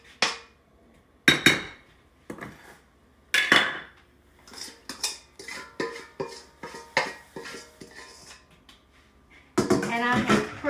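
Coated food scraped and dropped into a 9x13 baking dish, with a string of sharp clinks and scrapes of a utensil against the dish at an uneven pace, close and fairly loud.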